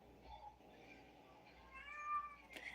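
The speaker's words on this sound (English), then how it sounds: "Who's meowing?" A cat meows faintly in the background, a few soft drawn-out calls rising toward the end over a low room hum.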